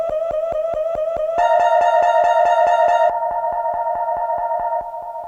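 Piano layered with heavily reverbed vocals in a Clams Casino-style effect, a steady stream of rapid repeated pulses with shifting bright layers, loud and upfront with no talking.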